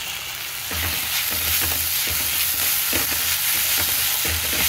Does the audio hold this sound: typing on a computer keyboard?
no